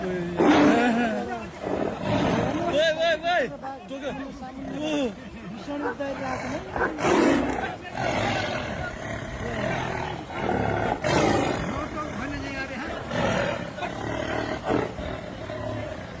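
A tiger roars and snarls during a fight with a dog, loud, rough and repeated bursts heard close, with people talking over the commotion throughout.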